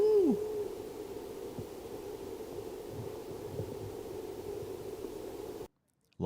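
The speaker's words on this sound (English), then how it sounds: "This bird sounds like static. Very pretty pigeon." A recorded pigeon gives a low, steady cooing hum heavily blended with static hiss, then cuts abruptly to silence near the end.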